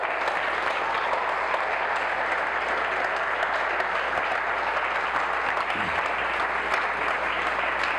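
Steady, dense applause from a large church congregation fills the whole stretch, even and unbroken with no voices standing out.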